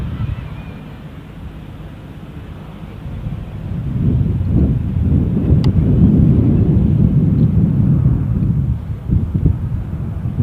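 An airliner lands at Amsterdam Schiphol airport, its low, distant engine roar swelling and holding steady beneath gusty wind buffeting the microphone.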